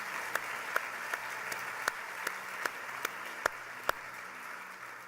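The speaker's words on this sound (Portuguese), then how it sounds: "Aplauda, aplauda." Applause from a church congregation, a steady wash of many hands clapping with a few sharper individual claps standing out at a regular beat.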